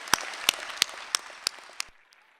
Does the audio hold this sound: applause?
yes